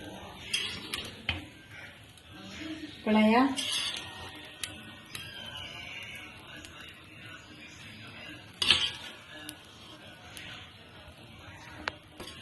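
A ladle scrapes and clanks in a pot of mushroom green biryani, giving scattered metallic knocks and a short burst of stirring, soft and close, with someone talking over it.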